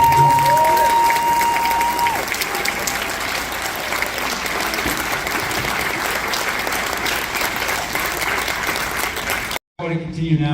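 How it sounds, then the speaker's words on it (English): Loud, continuous concert audience applause for a high school symphonic band at a spring concert, dense clapping with some cheering lasting about ten seconds before cutting off abruptly. "To give them another round of applause too."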